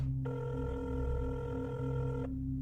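A telephone rings as a sound effect, one sustained electronic ring that starts abruptly and stops after about two seconds, over a low hum, with no talk.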